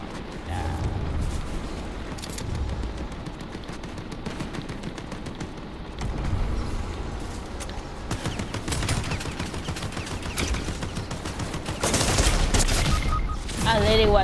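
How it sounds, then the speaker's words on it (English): Rapid gunfire from a new gun in Fortnite, with dense bursts of shots and booms that run continuously and grow heavier toward the end, mixed with game effects. "Oh, that's a new gun."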